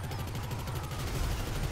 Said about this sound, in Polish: Strzeliłem dosłownie dwa razy!